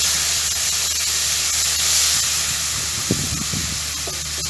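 Yogurt hitting hot spice masala in a pan for achari aloo gives a steady, close sizzling hiss that runs throughout, with a few soft spoon or pan knocks near the end.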